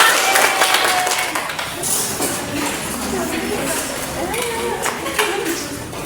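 A sixth-grade class claps together in a lively burst of applause, the dense patter of many small hands filling the room, with voices calling out over it throughout.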